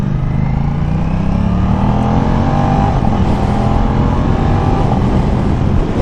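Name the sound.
Aprilia RS660 motorcycle riding and shifting gears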